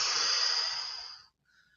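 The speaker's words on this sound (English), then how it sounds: "I hope you can hear my breathing." Heavy breathing during an exercise workout, a single long, close, airy exhale that fades out and then stops, with no talking.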